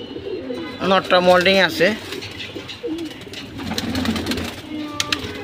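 Restless pigeons coo and flutter nearby in low, uneven bursts, with someone speaking briefly over them.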